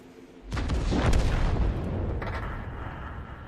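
Tank cannon fire in a video game, one heavy, loud boom that hits suddenly and rolls on into a long rumbling echo and fading battlefield noise.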